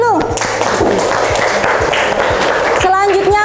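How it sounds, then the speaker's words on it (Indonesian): An audience in a classroom-style session of a teacher training program claps between group presentations. The clapping is moderate and somewhat scattered, and voices and tonal sounds run over it throughout. "Kasih tepuk tangan dulu."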